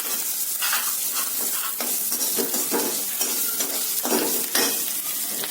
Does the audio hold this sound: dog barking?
no